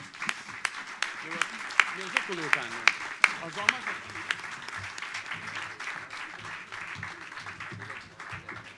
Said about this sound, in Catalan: Un aplaudiment per als que vindran ara, sisplau.